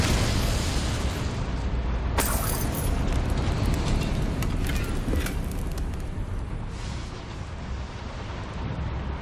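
An Incendiary fire spell is cast in Hogwarts Legacy, a loud roaring burst with a sharp crackle that settles into a sustained rushing, rumbling blaze.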